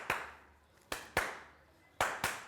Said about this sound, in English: You just clap your hand thrice and then you clap with them.